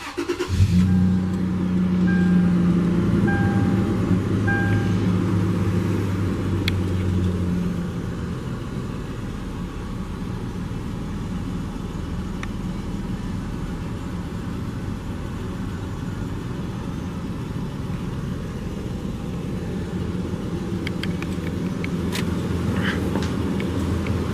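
A 2006 Toyota 4Runner engine hums steadily at idle, close and fairly loud, a little stronger in the first few seconds, then settling into an even, continuous drone.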